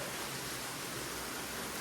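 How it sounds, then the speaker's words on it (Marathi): Waterfall pouring down from above near Pangoli village by Lonavala, a dense continuous roar of falling water, steady and distant-sounding, with no voices. "आई शपथ तिथून धबधबा वाहते वरतून."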